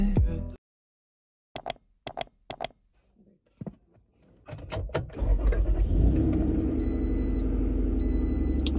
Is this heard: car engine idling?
yes